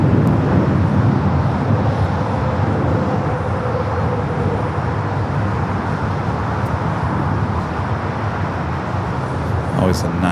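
A jet airliner takes off at LAX, a broad continuous roar that holds steady and fills the scene at fairly close range.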